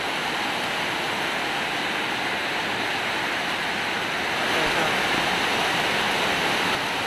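Heavy typhoon rain pours in a dense, steady roar with wind during Typhoon Enteng, loud and close throughout with no pauses, swelling slightly toward the end.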